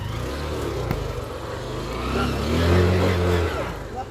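A motorcycle on a steep ride to a bat cave has its clutch released slowly, and the engine's revs climb and swell over a few seconds before easing off.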